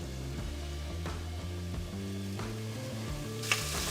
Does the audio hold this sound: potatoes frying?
yes